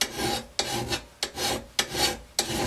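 Steady strokes of a metal file across a lawnmower blade clamped in a vise, about five rasping passes in an even rhythm, each with a sharp start, close and moderately loud, with no talk.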